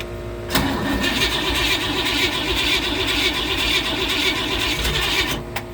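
A Pontiac 389 V8 cranks continuously with a fast, rhythmic starter chug that nearly catches, loud and close, then stops abruptly.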